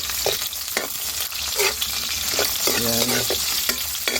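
A pan of eggplant adobo with onions is stirred over the heat, making a close, busy sizzle with repeated scraping strokes; a voice briefly speaks over it.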